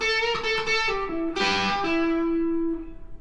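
Electric guitar plays a blues riff in E from the minor pentatonic box position, with a few picked notes ringing and sliding through a light effects-colored tone, close and clear with no talking.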